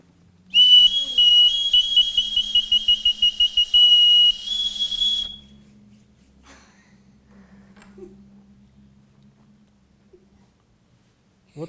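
A handmade clay toy whistle shaped like a hen, blown in a series of shrill, piercing warbling toots for several seconds, then quieter handling noises follow.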